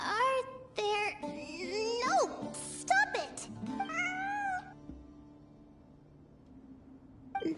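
A cat meows repeatedly in the game Genshin Impact, a series of rising and falling cries close by, with other voices over the cries, then fading into a quiet ambient hum.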